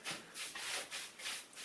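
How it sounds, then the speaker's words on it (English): A cloth or rag rubs over a freshly sanded plaster repair around a door frame in quick, close, soft back-and-forth strokes, with no talking. "So I'm just going to give it a quick wipe,"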